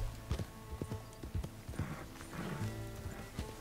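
Hooves of a horse in Red Dead Redemption 2 on PS4 clop along in an uneven gait, close and distinct, with a faint snort or whinny mixed in and a low game backdrop.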